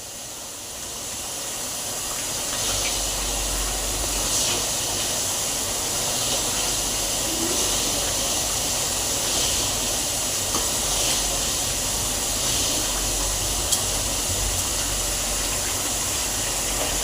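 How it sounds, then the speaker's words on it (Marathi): Spice masala for vada pav roasting in a pan gives a steady, even sizzling hiss that holds at the same level from start to finish, with no voices over it. "मसाल्याला चांगला गोल्डन कलर येईपर्यंत मसाला भाजून घ्यायचा आहे"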